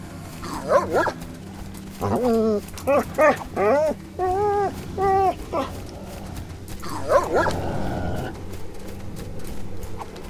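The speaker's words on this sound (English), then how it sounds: "Great, and now there are dogs." In a video game, a dog barks in a quick series of loud, close, tonal yelps and bow-wows, several in a row, followed by a whimper-like call and hurried footsteps or hoofbeats over a low rumbling background.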